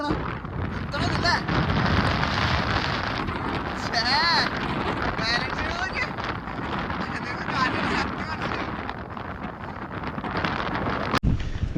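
A strong windstorm with rain sweeps across a mountain off-road trail, roaring as heavy, buffeting gusts batter the microphone continuously, with voices partly audible beneath the rumble and a sharp knock near the end.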